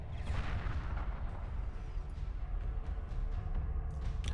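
Destroyers trading fire in a space battle in Homeworld Remastered, with a dense, continuous rumble of cannon fire and explosions, steady and moderately loud across the whole stretch.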